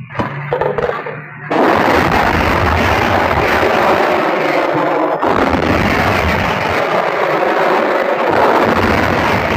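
Artillery gun firing during the Vietnam War: after a brief quiet start, a sudden loud blast gives way to a sustained roaring rumble that carries on without break through the rest of the clip.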